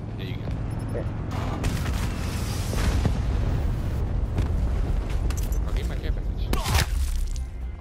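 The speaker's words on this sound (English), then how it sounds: "Someone's blowing up there." Video game explosion: a deep booming blast with crackling debris amid continuous gunfire and battle rumble, sharp cracks recurring, while players talk over the action.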